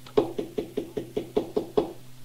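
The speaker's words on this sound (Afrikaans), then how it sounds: "toe die bondpyper aan die burgemeester se voordeur klop" Knocking on a mayor's wooden front door in the dead of night: eight firm, evenly spaced knocks in a steady rhythm, close and fairly loud, with no voices.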